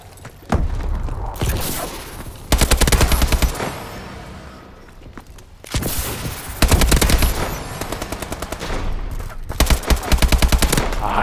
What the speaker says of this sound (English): Let's try the AK now.